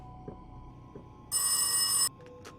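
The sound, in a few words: telephone ringing in the horror video game Rise of Insanity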